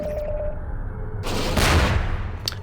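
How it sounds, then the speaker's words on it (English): A rocket launcher fires at the player in Portal, a single loud whooshing blast with low rumble after a faint repeating beep, then fading. "now we got a freaking rocket launcher coming after us"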